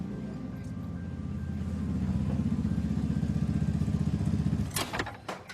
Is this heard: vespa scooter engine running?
yes